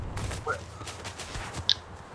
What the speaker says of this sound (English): Oh, where the gunshots are?